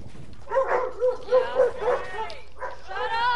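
Dogs barking and yipping indoors in short bursts, mixed with whimpers, with a person talking over them.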